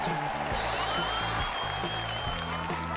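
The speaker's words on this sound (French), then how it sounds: "Excellent résultat et applaudissements de folie du public." Audience applause at a talent-show-style judging event, loud and steady clapping sustained across the whole stretch with a dense wash of hands, mixed with a low tonal music bed underneath.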